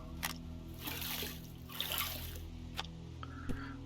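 Grates are washed in water in the game Gold Rush The Game, a quiet trickling and splashing with a few sharp clicks and knocks from handling the equipment.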